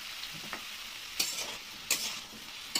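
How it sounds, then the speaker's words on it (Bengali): Shrimp and cucumber pieces being stirred and fried in oil in a pan, a steady soft sizzle broken by a few sharp scraping stirs of the spatula, close and with no talking. "এবার একটু এগুলো ভালো করে একটু ভাজা ভাজা করে নেবো,"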